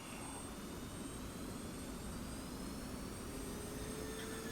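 F-16C jet engine spooling up during startup in the DCS flight simulator, a steady loud broadband roar with a thin rising whine, heard from the cockpit with no talk.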